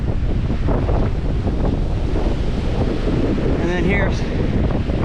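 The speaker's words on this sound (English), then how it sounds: "The wind's really whipping it." Strong wind blasts across the microphone at a beach, a constant loud roar with surf underneath, whipping an American flag nearby while a person talks briefly over it.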